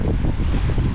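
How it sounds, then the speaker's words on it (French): Strong wind roars and buffets the microphone aboard a Liberty sailboat sailed solo as the breeze begins to pick up, a continuous loud rush with a low rumble and no voices. "on commence à prendre un petit peu de vent"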